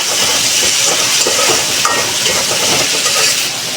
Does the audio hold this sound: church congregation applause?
no